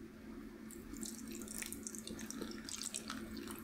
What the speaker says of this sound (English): and I just pour water in.